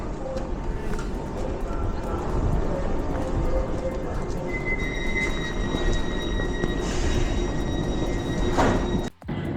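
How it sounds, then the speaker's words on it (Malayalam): An overground train in the UK rumbles and clatters along the rails with high squeals and tonal whines rising midway, loud and near, with a brief thump near the end. "നമ്മുടെ ട്രെയിൻ വന്ന് കിടപ്പുണ്ട് ഗൈസ്. ഇവിടെ നിന്ന് 2 ട്രെയിൻ മാറി കയറണം."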